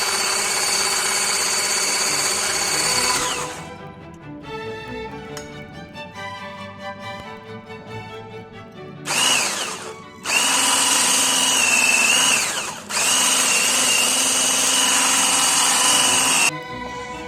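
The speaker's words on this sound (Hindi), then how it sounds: "अब हम अपने इस ड्राई इंग्रेडिएंट्स के मिक्सचर को ऐड करेंगे थोड़ा थोड़ा करके एग मिक्सचर में और इसे बीट करेंगे" An electric mixer beats dry ingredients into the egg mixture for a vanilla sponge cake, its loud whirring motor running in long bursts that stop and restart several times, with quieter clinking pauses between.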